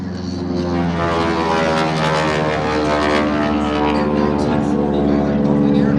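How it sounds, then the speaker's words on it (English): A Stearman biplane, a 1940 military trainer built in Tulsa, Oklahoma, flies at the Beale AFB airshow. Its radial propeller engine makes a loud, steady, harmonic drone that holds throughout with slight swells. "Now, Vicki's steerman was built in Tulsa, Oklahoma"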